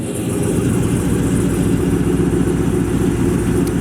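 A 1969 Camaro Z28 with its DZ 302 V8 idling nearby, a steady, loud, rumbling low-pitched drone with a slightly lumpy pulse and no talk over it.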